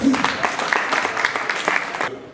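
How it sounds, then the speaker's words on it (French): An audience at a one-year anniversary event for an orphanage charity association breaks into steady, dense applause that holds for about two seconds, then stops abruptly. "Applaudissez s'il vous plaît."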